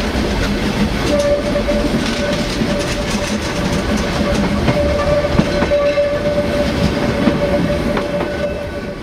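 Selketalbahn narrow-gauge train heard from on board in 2006, a loud, steady rumble with rhythmic wheel clatter on the rails and a sustained horn-like tone through the middle.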